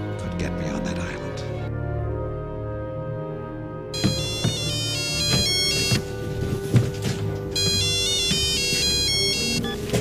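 A telephone rings with a steady electronic ringtone pattern, repeating through the passage while a voice talks and music plays underneath in a tense film scene.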